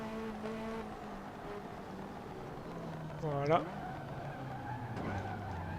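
Race car in the Assetto Corsa sim, its engine droning steadily with a brief tire squeal and skid midway; someone talks in French over much of it.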